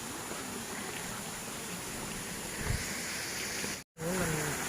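A waterfall stream at the Doi Chang cafe rushes in a steady, moderate wash of broad hiss, with a brief cut near the end and faint voices after it.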